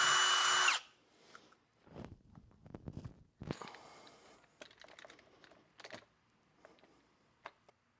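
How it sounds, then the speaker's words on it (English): Power drill boring a pilot hole during rust repair and brake booster delete work on a K-swap car project, heard as several short bursts of whirring, grinding drilling separated by pauses and clicks, close and fairly quiet, with no talking. "now that I have a pilot hole to guide this drill bit, obviously step it up to the bigger one"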